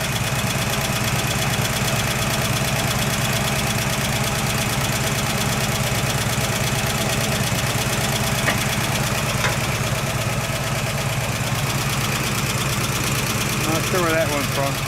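A 1969 AMC Javelin's 290 V8 idles steadily after a cold start, a loud, continuous, even engine drone running throughout with a faint ticking rhythm and no breaks.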